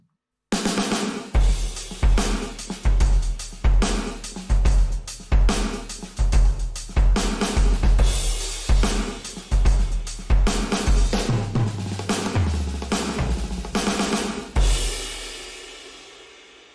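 A Yamaha DTX6 series electronic drum kit plays a steady groove with punchy kick and snare, with ambience and compression added, sounding roomy and compressed, with cymbals ringing out at the end.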